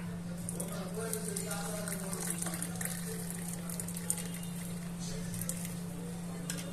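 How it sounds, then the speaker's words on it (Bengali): Herbal masala tea pours into a cup in a steady, soft liquid stream with a constant low electrical hum underneath, lasting several seconds. "আমার তৈরি হার্বাল টি পরিবেশনের জন্য আমি এখন কাপে ঢেলে নিচ্ছি।"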